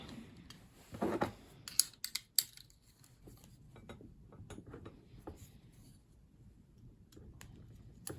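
Welding wire from an Eland MIG 200 welder is snipped in a few sharp metallic clicks clustered near the start, followed by quiet handling noise and soft rustling, with no talking.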